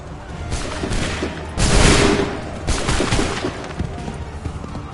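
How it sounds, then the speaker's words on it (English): Musket volleys roar out in the Assassin's Creed 3 video game, a dense crackling fusillade of many guns at once, loudest in a burst around the middle with further ragged volleys after. "Make ready. Open fire."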